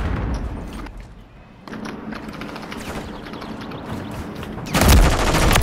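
Rapid bursts of gunfire in a first-person shooter, loud and close, with a dense volley near the end and no talking over it.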